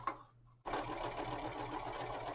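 Sewing machine running steadily as it stitches a quarter-inch side seam on a tote bag, close and continuous after a brief pause at the start.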